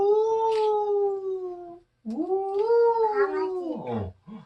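A voice imitates a dog howling like a wolf while telling a children's story, two long wavering howls separated by a brief pause, the second rising and breaking off into a falling yelp.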